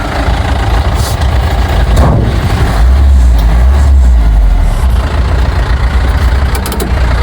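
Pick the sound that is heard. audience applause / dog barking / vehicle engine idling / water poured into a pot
vehicle engine idling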